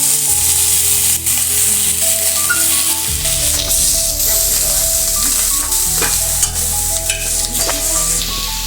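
Capsicum sizzling and frying in hot oil for bisi bele bath, a loud, steady hiss throughout with occasional stirring scrapes and clinks, heard close and without talk.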